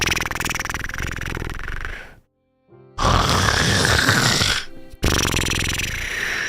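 A voice imitates loud, rasping snoring like a stalling engine, two long grunting snore bursts separated by a brief silence, close and forceful.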